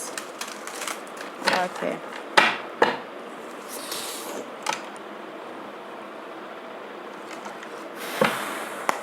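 A tarot card deck is shuffled at close range, giving scattered soft riffling and flapping bursts over a quiet background, with a little talking.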